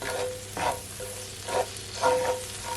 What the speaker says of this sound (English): So now I'm gonna add my butter and my garlic to my pot.